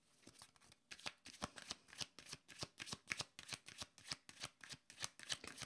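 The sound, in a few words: shuffling cards for a card reading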